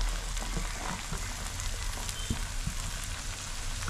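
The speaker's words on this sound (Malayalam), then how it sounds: "ഇതിപ്പോൾ സവാളയും ചെറിയ ഉള്ളിയും പച്ചമുളകുമാണ് ഇതെല്ലാം കൂടെ ഇതിലേക്ക് ഇട്ട് കൊടുക്കാം" Onions, shallots and green chillies sizzle and crackle in a hot pan for a Kerala-style beef fry, a dense, steady hiss up close with occasional stirring knocks.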